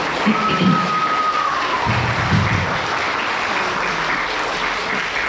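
An audience at a school Ramadan forum claps in a loud, continuous burst that holds steady, with a brief high tone near the start.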